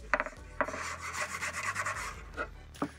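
A hand file rasps burrs off the freshly cut edge of a plywood board for a DIY shelf, producing several short, close, fairly quiet back-and-forth rubbing strokes.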